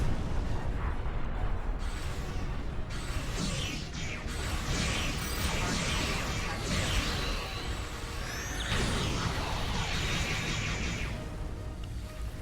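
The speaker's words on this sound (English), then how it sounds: "suddenly you get this turret that shoots" Turret weapons fire in a Star Trek Online space battle: a dense, continuous stream of sci-fi beam and energy shots with booming impacts, loud and sustained for the whole stretch with no voices.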